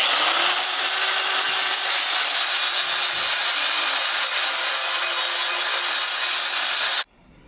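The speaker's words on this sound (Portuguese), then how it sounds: "Você pode dar um acabamento com uma lixadeira," Electric sander grinding down an oxy-acetylene weld bead on metal, a loud steady abrasive whir that runs unbroken for about seven seconds, then cuts off abruptly.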